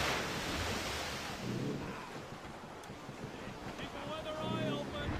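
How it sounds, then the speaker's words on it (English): Rough squall wind and crashing sea waves in the naval game Assassin's Creed Rogue, a steady broadband roar of gusts and surf that holds loud throughout, with brief voices calling out over it. "Careful! It's quite a rough squall,"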